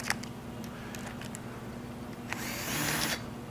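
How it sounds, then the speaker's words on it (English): A countersink deburrs a freshly tapped hole in metal that is still warm from welding, giving a short, close whirring grind near the end after a stretch of quieter shop background. "grab me a countersink. and just take the burr off of it."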